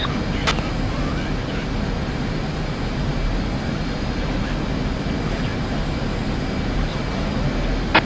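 Fast jet aircraft in the combat flight simulator DCS World produce a loud, steady, broadband engine roar that fills the whole stretch, with no clear rise or fade of a flyby.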